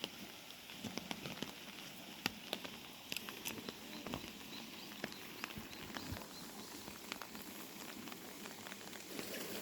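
Rain falls steadily on a wooden deck at a garden outing near Seoul, a soft continuous hiss broken by scattered louder drips and patters, with no one speaking.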